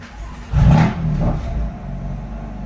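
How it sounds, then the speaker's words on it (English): A BMW engine turns over and roars up in a loud rev with the exhaust valves closed, then settles into a steady rumbling idle close by. "I'm actually gonna start the car up"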